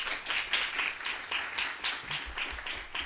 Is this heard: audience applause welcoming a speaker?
yes